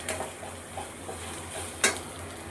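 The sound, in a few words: stirring turmeric and coriander powder in frying pan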